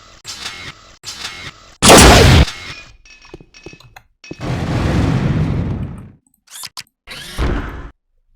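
The Unreal 8-ball launcher on alternate fire makes mechanical clicks and loading clunks, then a sharp loud blast, followed by a longer whooshing burst and further clicks and a final shot.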